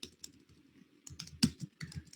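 Keys clatter on a computer keyboard as the nginx -v command is typed, with a sparse run of quiet, close taps followed by a quicker, louder cluster of keystrokes.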